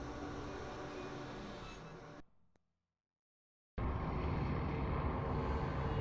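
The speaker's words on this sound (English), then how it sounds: "here we are upon the Infernal Train, the final level of the game" The Infernal Train from the game Alice: Madness Returns rolls along with a loud, steady rumble and hiss, drops to near silence for a second and a half, then roars back at full strength.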